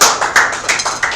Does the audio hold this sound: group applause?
yes